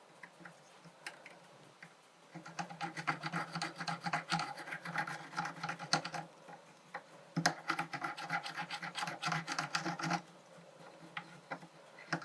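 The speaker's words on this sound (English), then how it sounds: "I'm going to pick out areas, raised areas, and just rub them back with the curved part of my burnisher." The curved edge of a steel burnisher rubs back raised areas on fused silver earrings, giving soft, quiet scraping strokes in bursts, close up with no talk.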